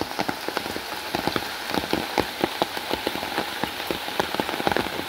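Steady rain pattering onto a village pond in Niteshwar, Bangladesh, with dense, irregular drops splashing close by over a continuous hiss.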